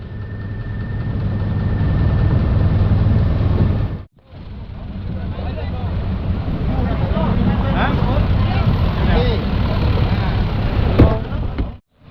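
A loud, droning longtail boat engine runs steadily up close, cutting out briefly, with wind and a voice talking over it.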